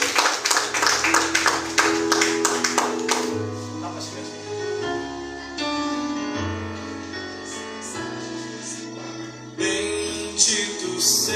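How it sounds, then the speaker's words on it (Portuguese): Rhythmic hand clapping from a church congregation rings out, steady and close, then gives way to music with sustained tones. "Palmas para Jesus."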